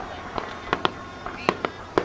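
Fourth of July fireworks crack and pop under storm clouds in a quick, uneven run of about eight sharp bursts, moderately distant and fairly faint, with no voices over them.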